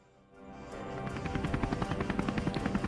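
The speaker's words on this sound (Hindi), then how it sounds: "हेलीकॉप्टर राजन उड़ाने लगा" A helicopter spins up and lifts off, its engine swelling from a low hum into a loud, rhythmic rotor thumping that beats steadily and close by.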